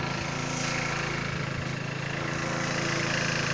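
A John Deere tractor engine idles steadily with a low, chugging rumble, close and continuous throughout.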